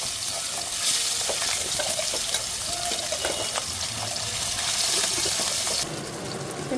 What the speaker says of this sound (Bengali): আমি অয়েল দিয়ে এটা মাছটা ভেজে নেব